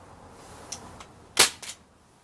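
A single sharp crack from a Crosman 1077 semi-auto .177 pellet rifle, a cheap CO2 air rifle, with a faint click just before and a softer knock right after, in a quiet setting.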